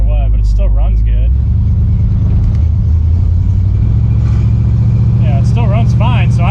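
A Ford Galaxie's engine rumbles steadily while driving, a loud low drone filling the cabin, with voices talking over it throughout.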